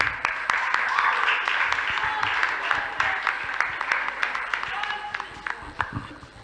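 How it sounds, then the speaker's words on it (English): An audience at a school debate event applauds the director as he comes to the stage to present gifts. The clapping is steady, with sharper single claps standing out from a dense wash of hands. "Can you clap for him?"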